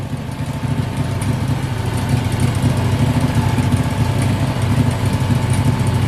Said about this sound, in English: That thing sounds like got a cam in it, one of them 358 Chevrolet racing cams in it.